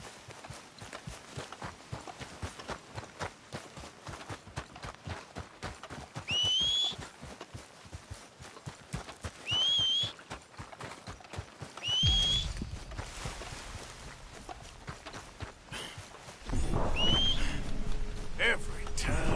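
Horse hooves clop in a steady rapid gait across rough ground in Red Dead Redemption 2, close and continuous, with whinny-like calls breaking in several times and low rumbling surges near the end.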